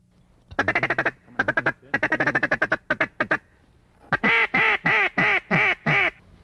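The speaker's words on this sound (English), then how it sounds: "read the ducks and see how they're going to react to those calls" Ducks quack in reply to duck calls from a hunting blind: fast bursts of rapid, clustered quacks followed by a slower series of loud, evenly spaced drawn-out quacks, close and clear.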